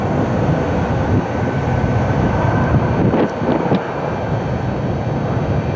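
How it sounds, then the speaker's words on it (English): An Airbus A320 on a long takeoff roll at night in rain and fog at Cleveland, its engines producing a steady, broad roar from a distance with wind noise mixed in. "long takeoff roll for this A320"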